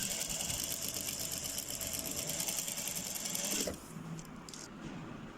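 A sewing machine stitches along the edge of a shirt placket, a continuous rapid mechanical hum with gear rattle that cuts off partway, leaving quiet room noise.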